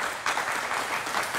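An audience claps in a dense, steady burst of applause that fills the brief moment with no voices.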